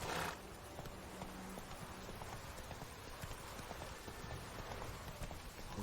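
Hooves of Roach, the horse in the video game Witcher 3, clip-clopping in a quick steady running rhythm, moderately loud and continuous throughout with no talk.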